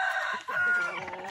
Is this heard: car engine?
no